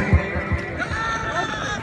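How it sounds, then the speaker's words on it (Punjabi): A group of eight Oriental horses in Pakistan, one giving a short high whinny over low shuffling and a faint hoof clop, with brief nearby talk mixed in. "ਮਾਸ਼ਾਅੱਲਾ ਚਾ ਅੱਠ ਘੋੜੇ ਇਕੱਠੇ"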